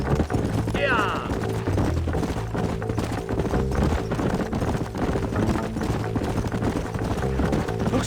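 Horses' hooves clip-clop steadily in the Red Dead Redemption video game, a continuous trotting rhythm running under voices talking and a background score.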